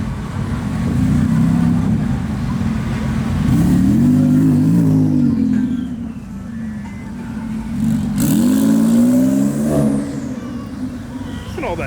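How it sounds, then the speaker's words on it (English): Porsche 911 Turbo at a car show, its engine swelling through two strong revs with whistling turbo spool and release between them, heard up close while people talk nearby. "Listen to all that turbo noise."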